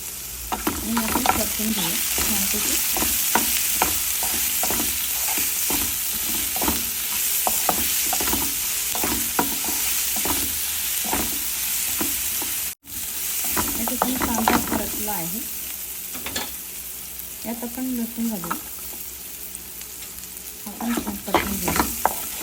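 Finely chopped onion with cumin frying in a pan for Maharashtrian ghevda bhaji, a continuous sizzle broken by frequent rhythmic spatula scrapes and stirs, close and fairly loud, with a brief dropout midway.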